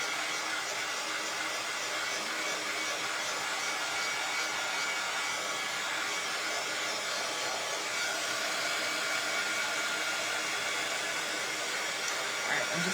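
Steady, loud hair dryer blowing without pause on a DIY bee hive kit, a continuous broadband whoosh that fills the whole stretch with no talking.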